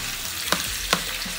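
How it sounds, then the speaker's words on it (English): Shrimp fry in hot oil over high heat for a Chinese stir-fry, giving a steady sizzle with two quick scraping stirs. "Once the oil is hot, we're gonna go ahead and add the shrimp."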